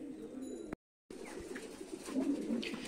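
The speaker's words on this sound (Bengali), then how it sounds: "আলহামদুলিল্লাহ আমরা কবুতর নামিয়ে দিছি। এ হচ্ছে কবুতর গুলা" Giribaz pigeons coo softly in short, low murmuring calls after a pigeon toss, amid faint outdoor noise, with a brief dropout partway through.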